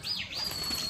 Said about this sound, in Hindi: एक हमारा कबूतर वहाँ पर जाकर बैठ गया, ये देखें तारों पर।